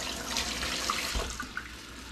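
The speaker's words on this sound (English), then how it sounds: "Gotta wash my hands up a little bit." Water runs steadily from a kitchen tap into a sink while hands are rinsed clean of raw beef, a continuous close hiss with small splashes and drips, no voices.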